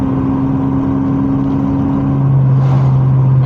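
A 1990s Mercedes CLK engine pulls steadily in second gear through traffic, its droning hum holding a constant pitch before stepping lower near the end as it shifts up, loud and close with road noise and no talk.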